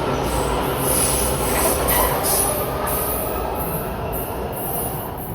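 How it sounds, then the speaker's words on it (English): Washington metro train riding the rails toward National Airport, heard from inside the car as a steady loud rumble with rhythmic wheel clatter and a faint high squeal running throughout, no voices. "we have to take the metro to National Airport."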